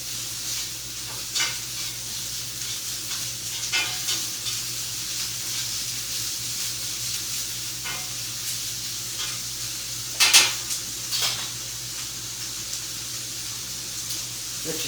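Onions being stirred in a pan over lower heat for a bacon, butternut squash and sweet potato hash, giving a steady soft sizzle with occasional scraping stirs and a sharper clatter near the end.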